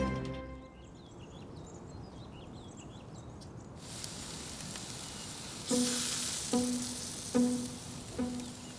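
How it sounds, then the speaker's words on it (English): Meat sizzles on a classic Weber charcoal grill in a steady, soft hiss, joined in the second half by a few sharp clanks and knocks, with no voices. "put your meat in, hear the sizzle,"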